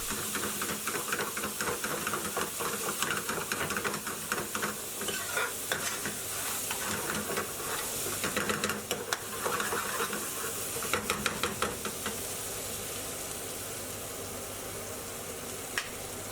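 Stirring and steady frying sizzle from chicken madras curry as tomato paste is worked into the pan, a continuous close hiss with scraping stir strokes and occasional bursts of steam.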